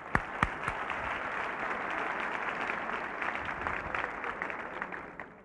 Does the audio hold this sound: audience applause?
yes